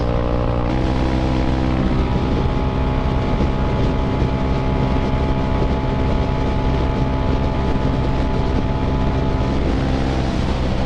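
A 2019 CSC TT250 motorcycle fitted with a 45-tooth sprocket runs flat out at top speed, its engine droning steadily and loudly under heavy wind rush for the whole stretch.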